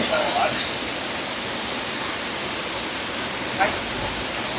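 A waterfall at Mankulam, Kerala, among the region's many cascades, pours in a constant close hiss that never lets up. Faint brief sounds of people break through now and then.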